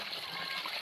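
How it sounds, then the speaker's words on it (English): Hands being washed with well water in a village, a brief faint splashing and trickling, quiet and close, with a soft voice nearby. "Let me wash my hands and take some."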